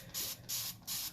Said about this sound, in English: we're going to spray off this etching cream